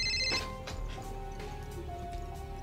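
A telephone bell rings in short repeated bursts, starting with a bright burst near the beginning and then settling into a steady tone over a continuous low background. Nobody speaks.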